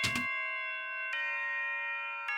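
Bright bell-like synth tones from a chiptune pop track, three struck chords each ringing out with long sustained harmonics, the first onset rougher and the rest clean, panned slightly left with big reverb.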